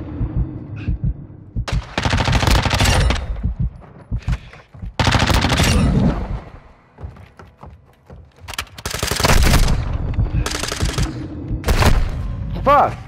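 Bursts of automatic gunfire in a Call of Duty: Modern Warfare II free-for-all match, loud and close, with several sustained volleys separated by short pauses and heavy thumps, while a player talks between them.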